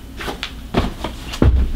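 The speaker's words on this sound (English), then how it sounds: "Oh, that door." An indoor door opening or closing, giving a few dull knocks and thuds spread over a couple of seconds against a quiet room background.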